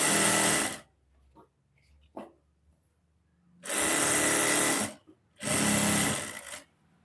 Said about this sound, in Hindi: इस तरीके से सिलाई लगाएंगे।